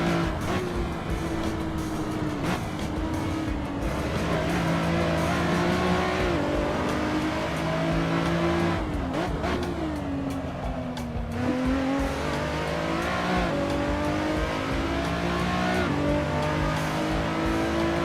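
Race cars in a realistic racing simulator game, engines droning and revving close together with pitch sweeping up and down through gear changes, occasional tyre squeal, loud and continuous.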